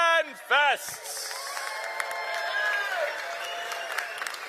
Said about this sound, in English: Please give a round of applause to the Green Machine from George Mason University who got us started here this morning.